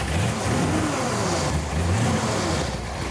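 Iconic Hollywood car idling cold with a lumpy, uneven idle, a close, low engine burble that wavers and pulses steadily without speech.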